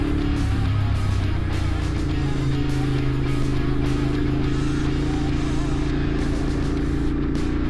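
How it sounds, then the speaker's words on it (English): A Ducati Monster motorcycle rides along a road between rock faces, its exhaust a steady, loud engine drone with a rumbling low end that echoes off the rocks without pause. "Just listen to that exhaust echoing off the rock faces."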